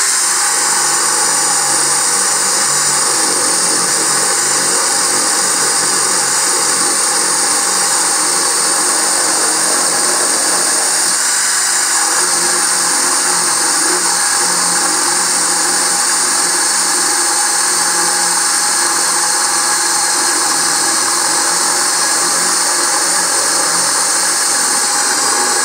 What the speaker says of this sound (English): I'm going to try drilling the exact same hole as I did the first time with the 12-volt Hypertough with this 20-volt DeWalt